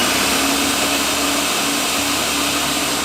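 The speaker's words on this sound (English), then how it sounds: "Let's give that a blend and see what happens." A blender running steadily, whirring loudly and continuously while blending a miso vegan pasta sauce, close up with no voices.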